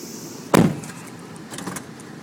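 A sliding door on a 2002 Nissan Elgrand E50 3.5L van closes automatically and latches with one sharp thud, followed by faint mechanical clicks and rattles in a quiet setting.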